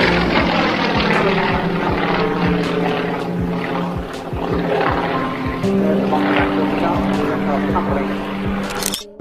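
An aerobatic stunt plane trailing smoke roars steadily and loudly overhead through its manoeuvres, its propeller engine droning continuously with a narrator's voice over it.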